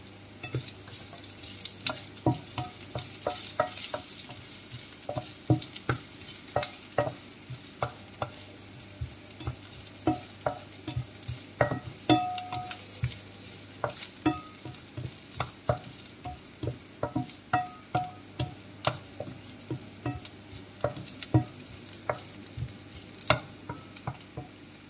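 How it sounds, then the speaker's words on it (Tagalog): Garlic sizzles in hot oil in a frying pan before chicken goes in, under a constant frying hiss with repeated scraping strokes of a utensil stirring, steady and close, and no talking. "then let's add garlic"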